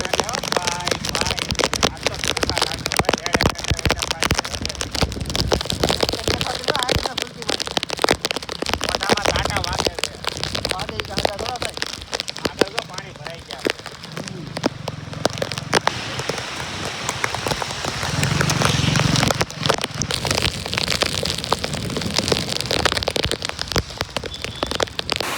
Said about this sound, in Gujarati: આમ તો વરસાદ ચાલુ છે